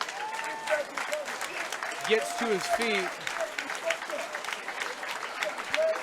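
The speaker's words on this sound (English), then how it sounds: "about to hear the crowd start clapping" A crowd at an amateur wrestling match claps and applauds after a hard takedown, a steady, dense patter of many hands that carries on throughout while a commentator keeps talking over it.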